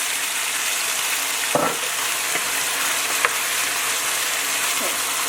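Chicken sizzles loudly and evenly in a pan after Shaoxing rice wine is added, a constant crackling hiss with a few faint clinks of stirring.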